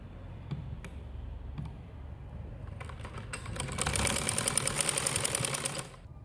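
Sewing machine stitching a gharara, a loud rapid whirring run of needle ticks building in the second half after quieter handling sounds, then stopping abruptly.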